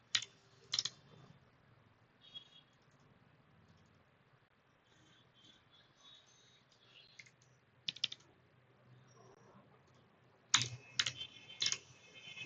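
Clusters of crisp keyboard clicks come as a machine learning project is typed in Python, separated by quiet stretches, with a dense flurry of keystrokes near the end.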